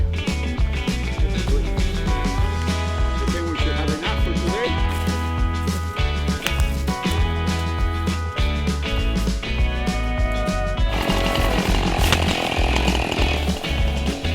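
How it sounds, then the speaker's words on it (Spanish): A chainsaw cuts trees in a Canadian forest, loud and continuous, its engine revving up and down across the whole stretch. "mi papá va cortando los árboles y así vamos avanzando"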